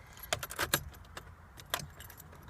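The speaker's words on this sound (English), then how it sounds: "Now let's just put the key into the ignition" A key goes into the ignition of a VW Polo with a few quick metallic jingles and clicks, close by and fairly quiet, in a short irregular burst.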